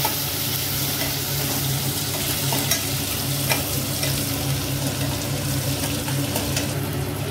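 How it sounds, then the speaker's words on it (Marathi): Onion and green chilli frying in a pan, a steady broadband sizzle with stirring scrapes throughout, close and moderately loud, over a low continuous hum, no talking. "त्यामध्ये हिरवी मिरची ॲड करायची आपण आणि मस्त भाजून घ्यायचं आहे।"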